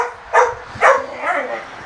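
Playing dogs bark back and forth in two sharp close yaps, followed by softer whimpering yips, all over a quiet background.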